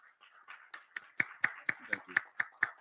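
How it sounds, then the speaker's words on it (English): Applause at a men's conference: sharp, evenly spaced claps that swell from a scattered start into a steady rhythmic beat. "Give a round of applause for Dr. Eze."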